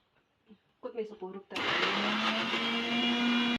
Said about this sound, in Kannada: ಅಶ್ನಿ ಪುಡಿ ಮತ್ತು ಕೊತ್ತಂಬರಿ ಸೊಪ್ಪನ್ನ ಎರಡರೂ ರುಬ್ಬಿ ಫಸ್ಟ್ ಮಟನ್ ಸಾರಿಗೆ ರುಬ್ಕೊಳ್ಳೋಣ